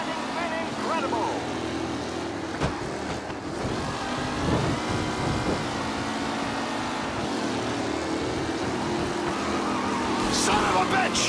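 Race cars roar and skid through a tight pack in Mafia Definitive Edition, engines droning steadily at close range with a brief screech near the end, while a voice talks over much of the action.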